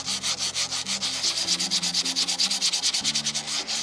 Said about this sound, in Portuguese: eu dou uma lixadinha.